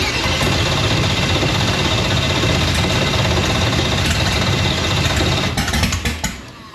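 A Pontiac Firebird engine cranks and catches, giving a loud, continuous rough rumble close by that ends in a few sputtering bursts as it dies down.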